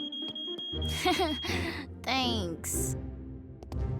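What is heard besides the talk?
smoke alarm in a cartoon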